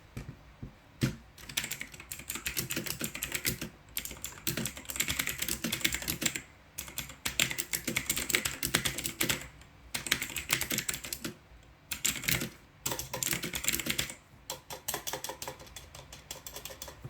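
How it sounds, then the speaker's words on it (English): Fast continuous typing on a full-size Philips keyboard, keys clacking in quick bursts with brief pauses between runs, close and moderately quiet with no talking. "Now I'll do sound test of the Philips."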